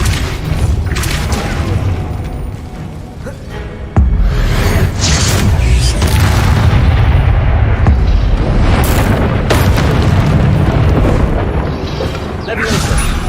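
A Convulso combat spell is cast in a video game battle amid loud, dense booming bursts and clanking effects, with a sharp hit near four seconds and further crackling impacts throughout.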